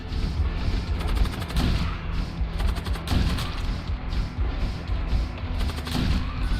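Video game weapon fire during a ship boarding in Void War, with dense rapid gunfire and booming volleys forming a continuous loud barrage over a rumbling low background.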